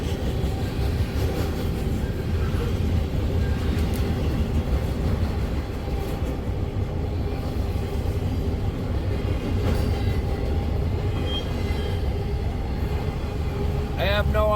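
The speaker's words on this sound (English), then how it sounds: "I have no idea what ID this train is. All I know is it is heading to Bellevue." A train rumbles steadily past at close range, a heavy continuous roar with faint rail clatter and a brief high squeal near the end.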